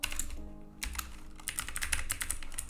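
Close, quick clicking of a computer keyboard as HTML code is typed, a fast irregular run of keystrokes with a brief pause early on, no speech.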